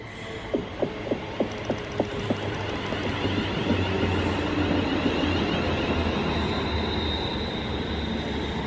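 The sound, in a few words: train arriving at a station platform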